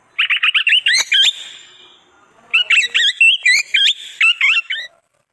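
A parrot gives two bursts of rapid, shrill chirping and whistled squawks, loud and close, separated by a short pause.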